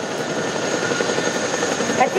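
A formation of eight military helicopters led by an OH-6 flying in at a Japanese army air show, a loud continuous rotor roar throughout with a public-address announcer speaking over it.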